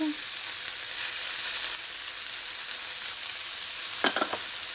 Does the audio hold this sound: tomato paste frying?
yes